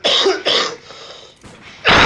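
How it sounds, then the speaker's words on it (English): A person on a stream coughs several times in short, harsh bursts that are close and loud, with a brief quieter gap before a final strong cough. "I did not want to cough like that, but I just had to."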